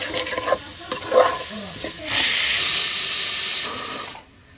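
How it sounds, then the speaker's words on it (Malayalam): Onions with salt frying and being stirred in a pan for homemade beef curry, a close sizzle with scraping stirs that swells into a steady loud hiss before stopping abruptly; a voice speaks briefly over it. "നന്നായിട്ട് വഴറ്റിയെടുക്കണം, നല്ല വെന്ത് കണ്ണാടി പോലെ ആവണം."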